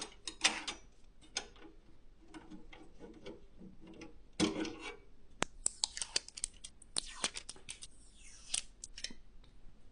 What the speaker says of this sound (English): Remove these expansion slot covers.